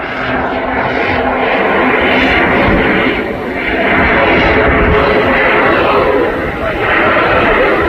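A Pitts S2E biplane fitted with a jet engine, with modified wings, tailplane and rudder, flying a display at the Blackpool Airshow 2024: a steady, loud roaring drone with slow swells as it passes, continuous throughout.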